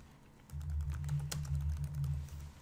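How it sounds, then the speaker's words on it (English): Quick typing on a computer keyboard while searching Upwork, a run of light clicking keystrokes over a steady low hum, close and fairly faint. "In the Upwork, if you type it jewelry design,"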